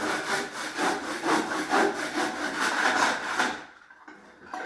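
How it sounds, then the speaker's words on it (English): A hand saw cuts a wooden mitre for panel moulding with steady, rhythmic back-and-forth strokes, close and loud. The rasping stops near the end and leaves quiet room tone. "Make sure that you line up with the saw and let the saw do the work."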